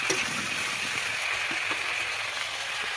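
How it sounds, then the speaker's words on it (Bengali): Potato pieces fry in a pan for a meat curry, giving a constant close, moderately loud sizzling hiss with a few soft knocks underneath and no talking. "তো আমি সবগুলো আলু দিয়ে দিচ্ছি এখন ভালো করে ভাজার জন্য।"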